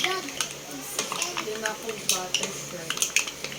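A pot lid clatters on and off a cooking pot of seafood in tomato broth, giving repeated metallic clinks and scrapes while a person talks over them.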